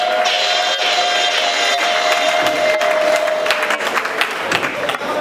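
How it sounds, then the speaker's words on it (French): Applause and crowd noise fill a wedding celebration, a steady wash of clapping with some cheering, loud and close, holding throughout with a faint tonal hum underneath. "Vos applaudissements"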